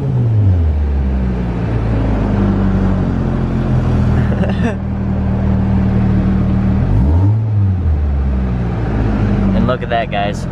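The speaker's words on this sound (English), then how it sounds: "I do like to come over here and rev it" A Volkswagen car engine that will not rev past 3000 RPM drones steadily up close, its pitch rising and falling through short revs, with talk over parts of it.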